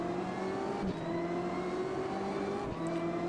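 A BMW M8 GTE race car at Laguna Seca in Automobilista 2 holds a steady, droning high-revving engine note, with two brief dips where it shifts gears before pulling on again, with no talk.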